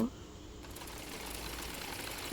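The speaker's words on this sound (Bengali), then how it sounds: "এরপর কাঁধ সেলাই করে নেব।" Sewing machine stitching a kameez made from yardage fabric and lace, giving a brief, faint, steady mechanical hum with no talking.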